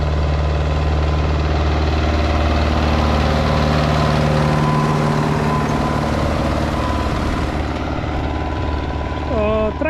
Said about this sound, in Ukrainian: А сьогодні ми ось працюємо цим тракторцем.